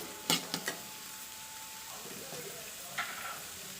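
Onions sauté in a pan for palakottai curry, a soft close sizzle broken by a few sharp clinks and scrapes of a spoon near the start and again later, faint overall and without speech.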